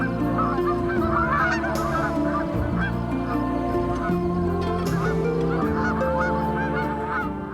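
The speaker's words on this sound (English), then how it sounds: "you hear those geese coming and you see those big flights" A large flock of geese honks constantly and loudly in the early morning in Arizona, the overlapping calls forming a dense, unbroken chorus close by.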